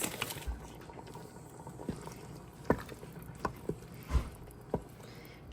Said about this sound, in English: Mix this up and let it simmer so all those flavors can come together.